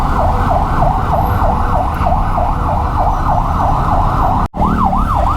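An ambulance siren wails steadily in a repeating rise-and-fall pattern, loud and close amid EDSA traffic in Manila, with a brief dropout near the end before the wail resumes. Engine rumble from a touring motorcycle filtering through traffic runs beneath it.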